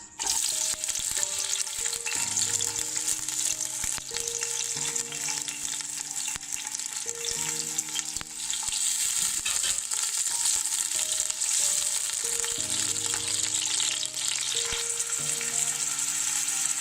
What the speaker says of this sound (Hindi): ऑयल डाला हमने, अब डालते हैं इसमें प्याज